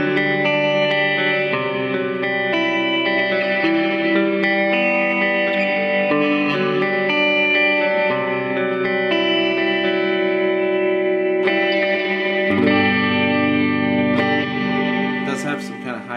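Guitar played through a Digitech Digiverb pedal with the reverb decay turned up, sustained chords and notes ringing out into a long, washy tail, loud and continuous.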